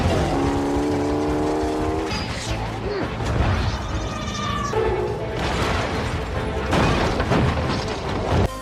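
A car speeds away in an action film chase scene, its engine roaring loudly under crashes, booms and a dense mix of effects and music, with no clear pause in the noise.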